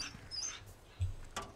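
A dog in Resident Evil 4, freed after being caught in a trap, gives a few short soft whimpers and yips, close and faint, spaced over a second or so with a light rustle between.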